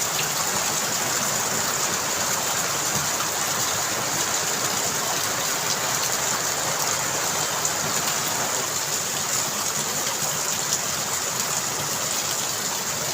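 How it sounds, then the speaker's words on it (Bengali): Heavy rain pours down steadily, a dense, loud, unbroken hiss of water that fills the whole stretch with no pauses or voices. "মানে এত জোরে বৃষ্টি হচ্ছে যে"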